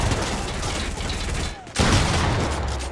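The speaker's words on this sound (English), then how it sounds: "There are shots all over the place and I do not know what's going on." Dense, continuous gunfire in the Fortnite battle royale video game, Season 9, with rapid overlapping shots and a brief lull before a louder burst resumes, steady and close throughout.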